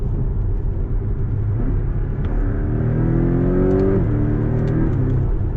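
A 2021 Porsche 718 Cayman GTS engine drones loudly from inside the car while driving in bad, icy weather. Its pitch climbs steadily through a gear, drops at a shift, then pulls up again, with no talk.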